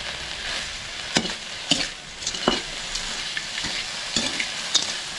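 Oil sizzles steadily in a pan as food for ginisang patola with shrimp fries toward crispiness, with a spoon scraping and stirring in several distinct strokes over the hiss, close and fairly loud, with no voices.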